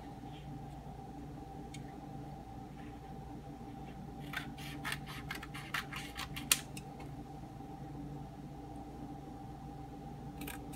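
Scissors snipping through mounting tape, a short run of crisp cuts close by over a steady background hum, followed by one sharper final snip.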